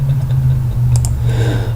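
Someone types on a computer keyboard, sending a few scattered key clicks and taps over a steady low hum. There is no talking.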